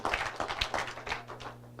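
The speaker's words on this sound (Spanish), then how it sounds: "¿Cuánto le damos un aplauso al Señor?" A church congregation claps for the Lord in a short run of distinct, slightly uneven hand claps with a faint steady hum behind them.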